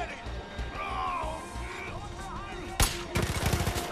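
A sharp crack and then a quick run of rapid gunshots ring out in the video game Far Cry 5, loud and close after a stretch of quieter game sound with talk.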